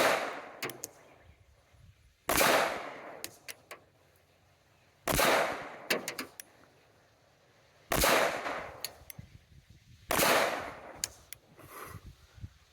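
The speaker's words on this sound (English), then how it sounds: "We're shooting through the weeds here is what's happening." Sharp, loud gunshots from a Tisas 5.7 pistol fired outdoors through weeds, five separate reports spaced a few seconds apart, each trailed by a brief echo and faint ticks.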